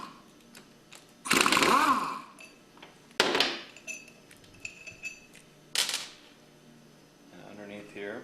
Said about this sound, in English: You'll need to take off the suction manifold by removing the 3 5mm bolts on top.